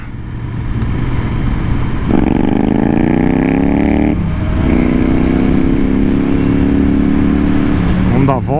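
A Royal Enfield Interceptor 650 twin being ridden on a test ride, its engine droning loud and close with rising revs through gear changes, wind rush throughout.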